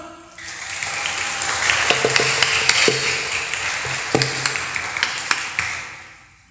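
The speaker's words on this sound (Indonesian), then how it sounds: "Cakep nih anak-anak, tepuk tangan dulu dong." A group of children clap their hands together in a mosque, a steady burst of applause lasting several seconds, fairly loud and close, fading out at the end.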